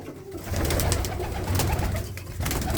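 Old pure-bred red Cheena pigeons cooing, with a steady low murmur of coos running continuously and fairly close, and no talk.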